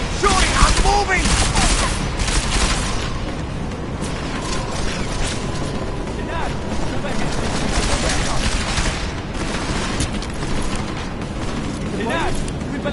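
Gunfire rattles in a firefight in Deus Ex: Mankind Divided, a dense continuous roar of shots and mechanical clatter with no clear gaps, loud throughout, while voices shout over the din.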